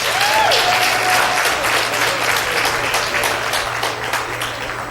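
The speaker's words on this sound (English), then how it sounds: "Another round of applause." An audience at a producer and DJ seminar gives a warm round of applause after a young singer performs, with steady dense clapping from a sizable crowd that fades slightly toward the end.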